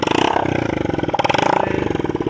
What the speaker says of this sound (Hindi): अभी हमने साइलेंसर को नहीं लगाया, इसलिए आप बाइक का आवाज़ भी कुछ अलग सुन सकते हैं।